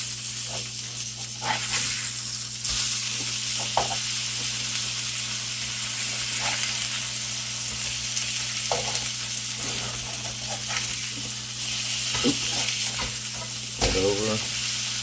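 A salmon fillet sears in a frying pan with a constant close hiss and crackle, broken by a few soft utensil knocks and a brief voice near the end.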